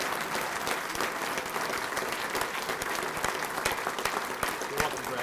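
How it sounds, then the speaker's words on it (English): Steady applause from the crowd at a City of Albuquerque news conference, welcoming a new general manager. Continuous, moderately distant clapping with faint voices mixed in. "How about a round of applause for our new general manager,"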